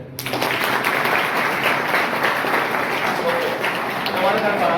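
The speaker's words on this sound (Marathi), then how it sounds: "अठ्ठ्याण्णव मार्कासाठी टाळ्या देऊया" A classroom of tenth-grade students applauds a classmate, a dense, steady burst of many hands clapping together close by, sustained evenly for several seconds.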